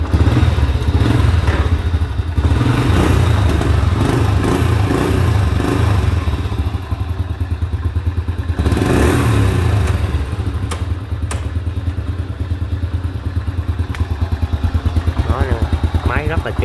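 An original-condition Honda Dream 98 motorcycle engine runs steadily and close, a low, rhythmic mid-pitched chug with mechanical clatter, while someone talks over it.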